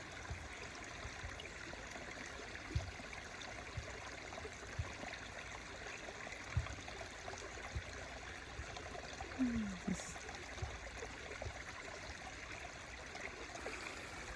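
Soft, continuous flow of a water stream, faint and steady with a few small splashes and a brief low glide partway through, no talking.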